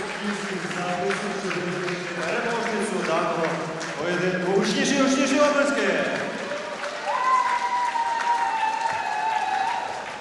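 Spectators at the ASD IV women's boxing tournament applauding after the final bell of a 57 kg bout, a broad crowd clapping and cheering while a commentator talks over it.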